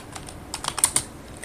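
Short burst of typing on a computer keyboard, a handful of quick close key clicks clustered together over a faint background hiss.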